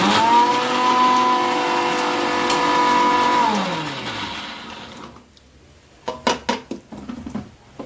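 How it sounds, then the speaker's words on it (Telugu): A kitchen mixer grinder runs steadily as it grinds sesame seeds and peanuts, a loud motor whine that winds down around the halfway mark, followed by quieter clatter and knocks of the jar. "ఇవైతే నువ్వులు పల్లీలు అయితే నేను ఇప్పుడు మిక్సీ పట్టుకుంటున్నా."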